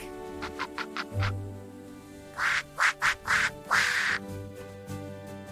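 A duck quacks in two bursts: a few quick, light quacks, then a louder run of four or five rasping quacks with a low hum beneath.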